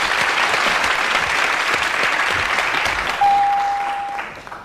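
Studio audience on a French TV quiz show applauding steadily and loudly for about four seconds, the clapping tapering off at the end beneath a brief electronic tone.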